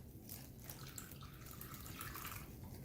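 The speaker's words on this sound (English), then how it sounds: "I'm just going to put a little bit of water in here." Water trickles and splashes softly into a plastic baggie, a steady wet pouring with small drips, fairly quiet and alone with no talking.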